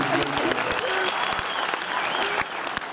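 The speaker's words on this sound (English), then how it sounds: "So give yourselves a big round of applause." A concert audience at a tribute show applauds and cheers in a dense, sustained wave, with crowd voices mixed in.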